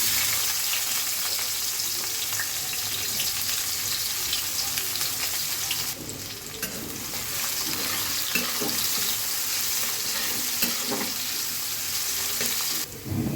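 Continuous crackling sizzle of chopped onions frying in hot oil, with occasional stirring and clinks throughout, no speech.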